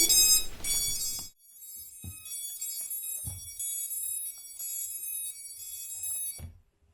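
Low-battery alarm from a Hubsan drone transmitter: a steady high-pitched electronic tone sounds continuously for several seconds, close and moderately loud, with soft clicks of handling underneath.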